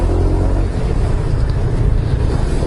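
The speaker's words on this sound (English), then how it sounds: "I'm like literally revving the engine, stopping, revving the engine, stopping." A small scooter engine revs and drones steadily, revving then stopping, with low rumble and wind buffeting the microphone, loud and close, no voices.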